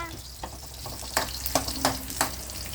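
Ginger frying in a pan for tilapia escabeche, a steady sizzle with a few sharp scraping stir strokes breaking through at irregular intervals, close and moderately loud, with no talk.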